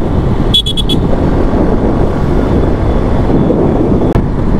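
A modified Suzuki Gixxer 155cc motorcycle is ridden on a road, its low engine rumble buried under heavy wind buffeting, with a quick burst of horn toots near the start.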